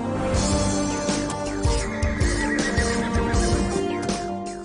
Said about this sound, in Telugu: ఆ గుర్రం.